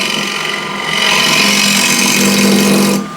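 A scraper cuts into a spinning wooden bowl on a lathe with a loud, continuous rough grinding rasp over the motor's hum, growing heavier after a second and stopping abruptly near the end.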